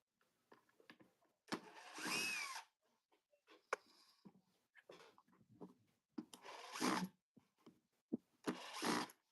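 A power drill backs screws out in several short whirring bursts separated by pauses, with lighter handling clatter and rubbing in between, close and fairly quiet.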